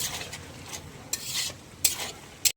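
Mixed vegetables stirred and sautéed in a pan after the gravy has reduced: a soft sizzle runs throughout, broken by three sharp spatula scrapes near the end.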